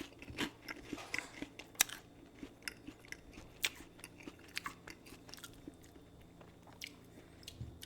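Texas Toast garlic bread is bitten and chewed very close to the microphone, producing a quiet string of sharp, dry crunches in an irregular rhythm, with softer chewing in between. No one speaks.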